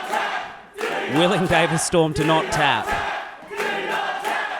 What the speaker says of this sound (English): this crowd getting behind Davis Storm here